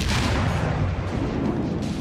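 Enemy ship cannon fire in a pirate video game, heavy low booms rumbling continuously up close, dense and thundering with no gaps.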